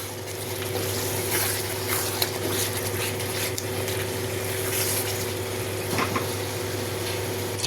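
Potato and spice curry boiling in a pan, a continuous low bubbling and gentle sizzle with occasional small pops, close and steady.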